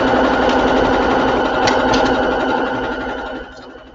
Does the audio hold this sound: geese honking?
no